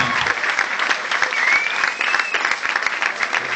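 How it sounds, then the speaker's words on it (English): Loud, sustained applause from a live audience for performer Ciaran Sinclair at Hardy Hall, Little Lever, a dense steady clatter of many clapping hands filling the room throughout. "A big round of applause for Ciaran."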